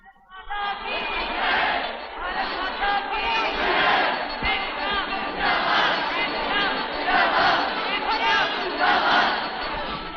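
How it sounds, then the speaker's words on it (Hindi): A large crowd chants a slogan in loud, rhythmic repeated bursts, the chant rising and falling steadily throughout. "सारे देश में भारत छोड़ो का नारा गूंज उठा"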